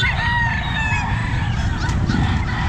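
Roosters crow repeatedly at a busy pet market in Calumpit, several overlapping loud calls rising over a constant crowded background rumble.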